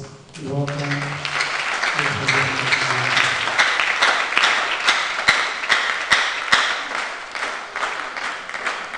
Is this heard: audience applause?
yes